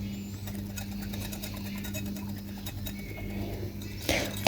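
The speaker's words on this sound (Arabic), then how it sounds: "تضربيهم بالمضرب" Two eggs are beaten with a whisk in a bowl, giving a rapid, faint, steady clicking over a low background hum, ending with a brief louder clatter.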